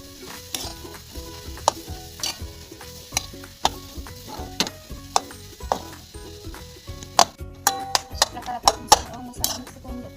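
Boiled mashed potatoes being mixed with fried masala in a pan for potato chutney, with repeated sharp spoon knocks and scrapes against the pan over a low sizzle, growing busier and louder toward the end.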